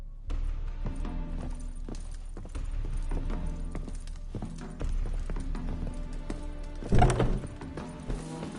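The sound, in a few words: horse hooves galloping in video game The Witcher 3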